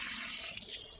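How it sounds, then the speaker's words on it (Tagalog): Cold water pours steadily into a magic color-changing cup, giving a continuous bright splashing hiss with no break for about a second. "lagyan natin siya ng tubig na malamig para makita natin kung paano siya"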